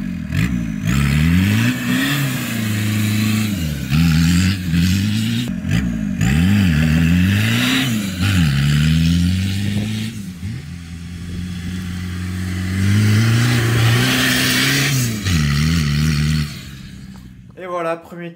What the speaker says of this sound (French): On va faire une accélération en 2 roues motrices et ensuite une accélération en 4 roues motrices.